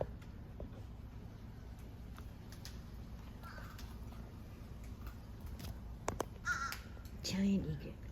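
A crow caws a few times near the end of the clip among egrets being fed outdoors, preceded by a stretch of low background rumble and faint ticking.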